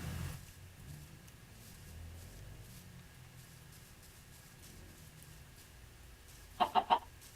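A chicken in the video game Minecraft gives three quick clucks near the end, after a long stretch of quiet ambient game background.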